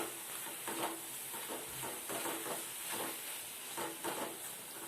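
Spice-coated mushrooms sautéing for a mushroom gravy: a steady close sizzle with repeated scraping stirs of a spoon through the pan, continuous and fairly even throughout, no talking.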